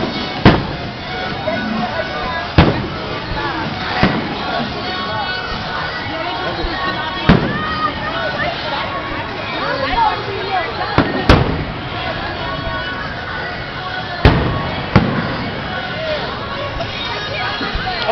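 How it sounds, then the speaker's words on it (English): Fireworks boom and crack at uneven intervals over Virginia and DC, sharp bursts over a constant crowd murmur, with people talking nearby. "I was trying to look at the fireworks"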